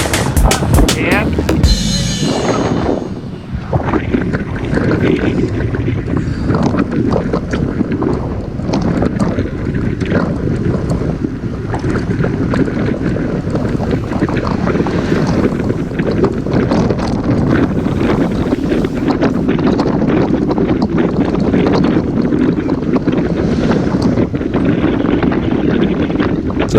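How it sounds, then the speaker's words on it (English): Strong wind buffets the microphone during a group bicycle ride around Lake Conroe, a loud continuous rumbling roar with gusty fluctuations throughout, with occasional speech under it. "So now the wind is coming from the right in this direction here."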